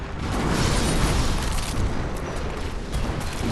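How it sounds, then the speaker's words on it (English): A loud, sustained explosion inside the Bloodborne video game, a broad rumbling blast that holds at full strength for several seconds and then slowly tails off, with no voice over it. "Explosion."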